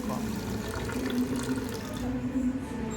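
Water poured into a bowl of sugar to make syrup for boondi laddu, a steady close trickle and splash running throughout with a faint low hum beneath.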